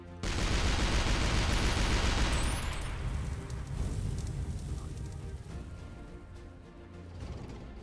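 Artillery shots in the tank game Shellshock Live, a loud burst of rapid gunfire-like blasts that then fades into a rumbling tail with scattered mechanical clicks.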